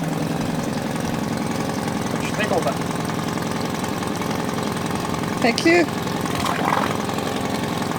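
Sailboat engine idling steadily with a low, even chugging throb, running under someone speaking nearby.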